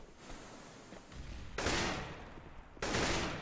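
AK rifle fire from a Counter-Strike esports match, two sharp loud bursts of shots standing out over a steady background wash.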